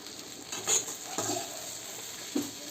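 Onion and tomato frying together in a pan over high heat give a soft, steady sizzle, broken by a few brief stirring scrapes close by, with no talking.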